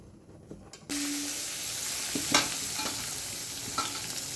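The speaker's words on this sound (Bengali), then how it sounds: "এবার আমি বেগুনটা ভেজে নেব" Eggplant slices frying in hot oil after hilsa fish, a loud steady sizzle starting sharply about one second in, with occasional clinks and scrapes of a utensil in the pan.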